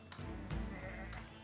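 Sheep bleating in the real-time strategy game Age of Empires IV, two or three short close bleats over a steady game soundscape of music and ambience.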